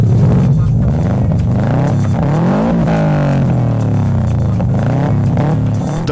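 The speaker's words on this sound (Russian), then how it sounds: "мы познакомим тебя с шумовым потенциалом данного Subaru" A Subaru Impreza WRX STI engine and exhaust roar loud and up close, revving up and down through the gears with a throaty, continuous drone.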